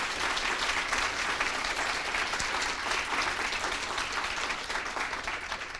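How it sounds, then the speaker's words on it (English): An audience applauds at a gift announcement event for a new nursing school building, with loud, dense, steady clapping filling the whole stretch. "let's give them a round of applause for that, please"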